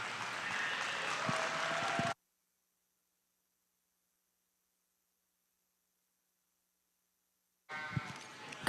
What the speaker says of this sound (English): Let's go ahead and let's give him a big round of applause.